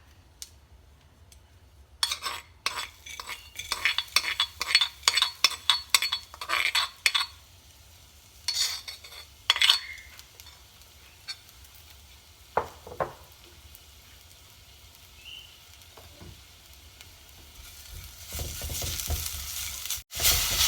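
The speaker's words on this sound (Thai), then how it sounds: "ตอนนี้เราก็จะเอาส่วนผสม ที่เราตำลงไปเมื่อกี้ กระเทียม ขิง พริกไทยดำ ลงไปผัดค่ะ" Pounded garlic, ginger and black pepper stir-fried in hot oil in a wok, with steady sizzling and repeated scraping strokes of a spatula and metal clinks, busier early and quieter toward the end.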